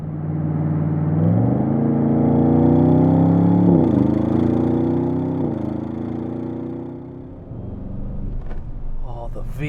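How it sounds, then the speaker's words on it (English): A 2023 Audi RS7 Performance, a 630 hp V8 with sound insulation removed and driven in S dynamic mode, accelerates hard with a deep rumbling roar that climbs in pitch through gear changes. A voice talks over it. "V8 rumble sounds so good."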